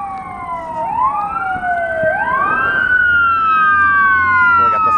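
Fire truck sirens wail past on a city street near the Denver Coliseum, loud wavering sweeps overlapping one another above a low rumble of traffic.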